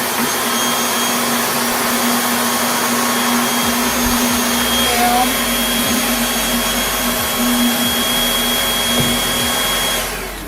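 Bissell 2033M budget stick vacuum running on a table, a steady, loud motor whine with a constant airflow hiss, continuous and close, with no talking over it.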